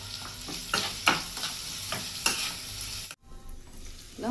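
Chana dal, mustard seeds, cumin and chopped onion frying in hot oil for a bitter gourd fry: steady close sizzle broken by repeated spoon scrapes and stirring knocks, with a brief drop near the end.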